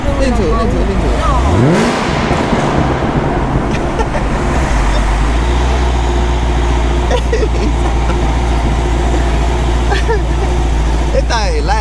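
A loud 800hp Cadillac CTS-V engine rumbles and revs close by, its pitch rising then settling into a steady roar, with voices talking over it.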